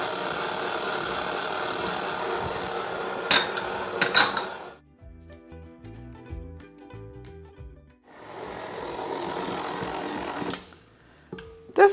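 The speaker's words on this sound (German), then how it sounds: "Ich mache es hier mit meiner Küchenmaschine." Stand mixer kneading bread dough of spelt wholemeal and wheat flour with a dough hook, a steady motor drone with clinking of the bowl, broken by a pause before the motor resumes.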